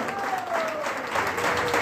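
A seminar audience in Prayagraj breaks into loud applause, a short burst of dense clapping with a faint tone running beneath it.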